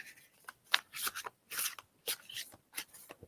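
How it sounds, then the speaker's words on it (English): A deck of tarot-style cards is shuffled by hand in short bursts of riffling and sliding, several quick flurries separated by brief pauses, close and soft, with no talking. "I'm shuffling these up for Sherry"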